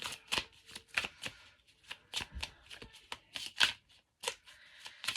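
Spirit Animals Tarot cards being shuffled by hand, a run of crisp papery riffles and slaps in uneven bursts, close and fairly quiet with no voices.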